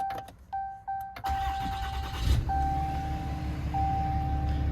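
Lifted 2013 RAM 2500 Laramie Mega Cab diesel pickup with 218,837 miles starting by push button: a few chimes and clicks, then the engine cranks and catches into a loud, steady low diesel idle, up close.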